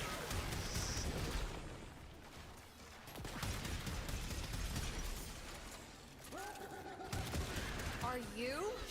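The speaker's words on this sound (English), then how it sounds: "Are you shooting at me?" Rapid video-game gunfire rattling in sustained bursts with short pauses, moderately loud, with a voice speaking over it and a brief tonal game effect near the end.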